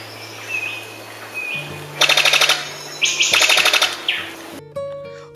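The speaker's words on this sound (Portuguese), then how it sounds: "O canto do macho é bastante peculiar, se assemelhando a rajadas de tiro de uma metralhadora." A male bird sings in rapid staccato bursts like machine-gun fire, two loud rattling volleys framed by sharp whistles against a soft background hum.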